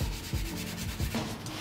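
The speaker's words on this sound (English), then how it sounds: "Steel wool, I mean, it really gets it off of there." Steel wool scrubbing rust off a 36-inch Blackstone griddle, close rhythmic rasping strokes in quick back-and-forth bursts.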